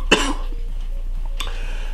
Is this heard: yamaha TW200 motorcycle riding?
no